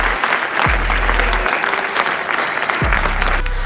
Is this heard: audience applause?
yes